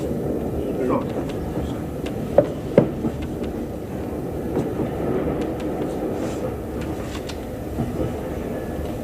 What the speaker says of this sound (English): At last, bloody train moving.